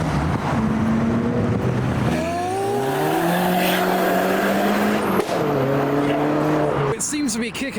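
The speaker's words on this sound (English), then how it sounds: "here's the turboed Huracan, the Evo 5" A turbocharged Lamborghini Huracan Evo pulls away from a car show, its engine note rising loudly through the gears and sustained over several seconds, with voices and crowd noise mixed underneath.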